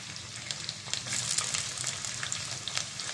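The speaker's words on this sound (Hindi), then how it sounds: "प्याज को हम अच्छी तरह से फ्राई करेंगे।" Onion frying in hot oil for beef keema pulao makes a soft, steady sizzle with light crackling pops, close by and fairly quiet.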